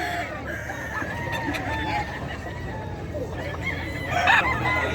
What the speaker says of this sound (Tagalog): Puro magagaling manok na ito guys.